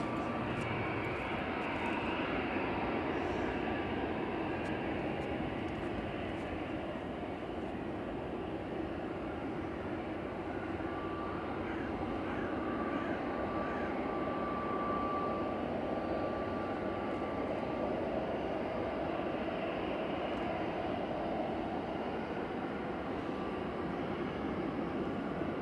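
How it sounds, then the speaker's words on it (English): A Hainan Airlines jet taxis at Manchester Airport, its engines giving a continuous, even whine and rumble at moderate distance, with no voices over it. "Hainan's taxiing in now."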